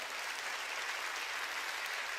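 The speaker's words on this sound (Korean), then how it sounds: "내 말을 깨달은 사람만 박수 치세요" A church congregation claps during a sermon, producing steady, dense applause that holds evenly throughout with no speaking.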